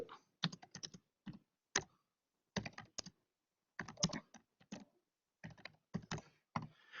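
Quiet typing on a computer keyboard in irregular bursts of quick clicks separated by short pauses, close and alone with no talking.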